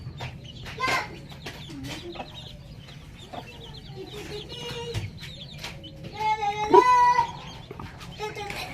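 A Parawakan hen clucks repeatedly in a backyard coop near her hatched chicks, the clucks close and irregular, rising louder toward the end, while a person talks in the background.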